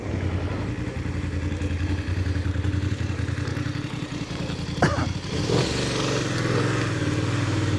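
A motorcycle engine runs steadily nearby, then drops off as the rider closes the throttle, pulls the clutch and applies the front brake, with a couple of sharp clicks and a brief rise in noise.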